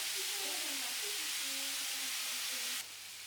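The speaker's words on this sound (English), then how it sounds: "add the onion last and continue sautéing until everything develops a light golden color and a wonderful aroma" Onion sautéing in a pan gives off a steady, close sizzling hiss that stays even throughout and drops slightly at the very end.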